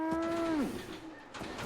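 A Brahmin, the two-headed cow of Fallout 76, lets out one loud, close, drawn-out moo that slides down in pitch at the end, followed by quieter game ambience.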